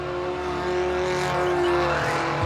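Race car sliding with tires squealing during a fast wheel change while the engine keeps running, a loud close engine drone with a rising squeal and a sharp skid near the end.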